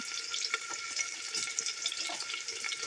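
Onions sizzle and crackle steadily in a hot pan, a close, continuous hiss with scattered small pops and light stirring, heard alone without talk.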